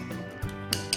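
A spoon clinks against a bowl as salt and pepper are mixed into a honey mustard marinade for chicken, a few light, close ticks and taps over a quiet kitchen hum.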